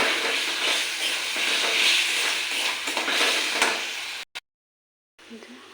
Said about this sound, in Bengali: মশলা হয়ে গেছে, আলু দিয়ে দিয়েছি, কষিয়ে একটু জল ঢেলে দেবো।